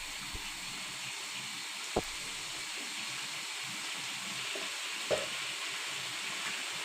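Ginger garlic paste frying in a pan of oil and chicken for Peshawari charsi chicken karahi, giving a steady even sizzle throughout with a few sharp knocks of a utensil against the pan, no talking.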